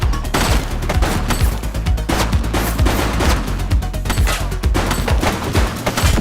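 Gunfire in The Precinct video game: dense, loud bursts of rapid shots and fusillades crowding together with no pauses, close and continuous.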